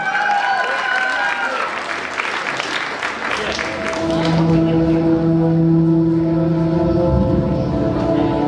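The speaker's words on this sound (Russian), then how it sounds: "под ваши громкие аплодисменты" Audience applauds loudly at a KVN student comedy contest during freshman week at Bashkir State University, a dense burst of clapping that gives way to sustained musical tones.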